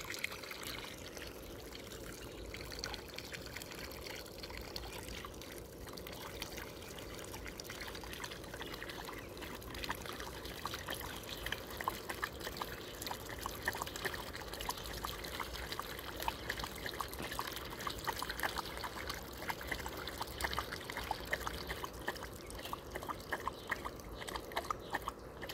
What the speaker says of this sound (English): And the water is going.